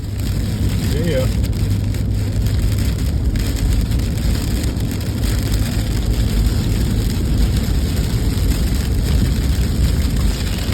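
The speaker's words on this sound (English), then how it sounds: "There's rain, there's no rain, and there's rain again. It's like a stereophonic rainstorm." Rain falls steadily outdoors on a mountain property in late summer, a dense, even hiss of drops continuing throughout at close range.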